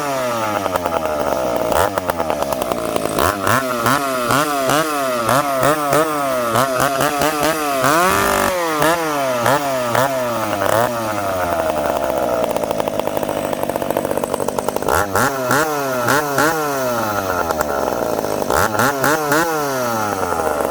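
A McCulloch Pro Mac 850 chainsaw fitted with a new exhaust pipe runs loud and close, its engine revving up and down in repeated rising and falling surges without a break.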